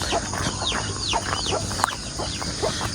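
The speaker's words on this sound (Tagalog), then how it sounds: "Nagsama rin itong mga sisiw" Chicks and duckling peeps ring out on a small farm. Many high, rapid, downward-sweeping chirps overlap nearby in a steady chorus with no voices.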